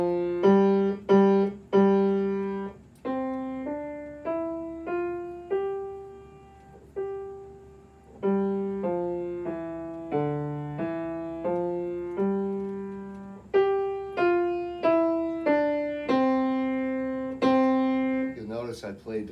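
Keyboard playing a simple scale-like melody, the piece Surprise, as clear single notes moving stepwise up and down, with louder and softer phrases, played alone without talk.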